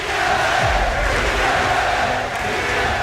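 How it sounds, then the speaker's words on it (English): A packed basketball arena crowd of Philadelphia 76ers fans chants Beat LA against the Los Angeles Lakers, a loud, dense, continuous roar of massed voices with no pause. "you hear the crowd is chanting to the Sixers, beat LA"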